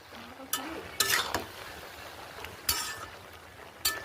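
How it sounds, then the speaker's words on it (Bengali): Malabar spinach and shrimp frying in a pan with coriander powder are stirred, giving a soft sizzle under several sharp scraping, clinking strokes of the spoon at irregular intervals. "একটু ধনিয়া পাউডার দিলাম। ভালো করে নেড়ে চেড়ে নিচ্ছি।"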